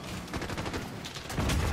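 Light machine gun fire in a video game, a dense, steady burst of rapid shots rattling continuously for under two seconds, growing slightly heavier toward the end.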